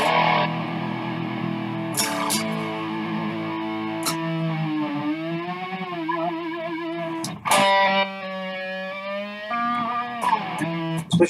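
Electric guitar played with a whammy bar, sustained distorted notes bending and wobbling in pitch, dive-like swoops and sharp string attacks over about eleven seconds, close and steady in level with no talking.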